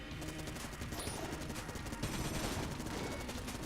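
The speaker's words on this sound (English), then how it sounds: "Saracana, why not slow down a little bit, huh? With the bullets and the shooting at me" Dense, rapid gunfire and bullet impacts from the video game Enter the Gungeon form a loud, continuous barrage of overlapping shots and crashes with no pauses.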